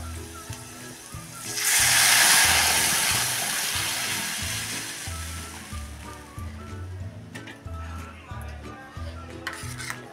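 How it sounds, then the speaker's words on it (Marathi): Lentil cooking water is poured into a hot pan of turmeric for a chana dal soup, a loud hissing sizzle bursting up and slowly fading over a steady rhythmic mechanical thumping in the background. "हे आता आपण डाळीचं पाणी त्यामध्ये ओतून घेऊया"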